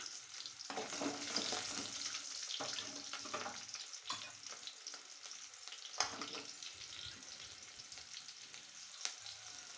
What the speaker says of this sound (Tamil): இதில் ஒரு 10லேருந்து ஒரு 12 சின்ன வெங்காயத்தை எடுத்து பொரிச்சிக்கலாம்